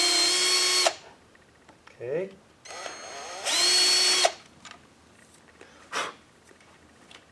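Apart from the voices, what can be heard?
small drill on high speed drilling rivet hole in muffler logo plate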